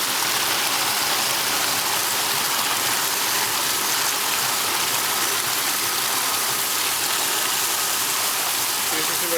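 Kollers massage jets in a filled bathtub spray water steadily, producing a continuous rushing, gushing hiss that holds an even level throughout.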